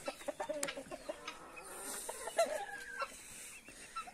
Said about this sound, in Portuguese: É mais é as galinhas